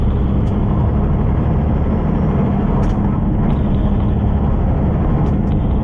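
A car accelerating up a highway on-ramp toward a 70 mph speed limit, heard from inside as a loud, steady roar of engine, tires and wind that continues unbroken throughout.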